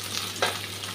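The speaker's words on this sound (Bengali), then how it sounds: "মাছটা ভাজা হয়ে গেছে" Katla fish frying in a pan: a brief, close, continuous sizzle with one quick scraping stir partway through.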